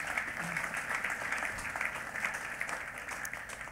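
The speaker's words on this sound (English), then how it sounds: "Clap for Jesus Christ" Church congregation clapping, a steady dense patter of many hands heard fairly faintly and from a distance, with some voices mixed in.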